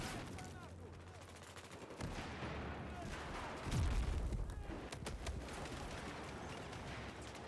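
A frag grenade explodes with a heavy boom amid steady gunfire and machine-gun bursts in a Battlefield 4 multiplayer match on the Lost Islands map, the firefight continuous and fairly distant.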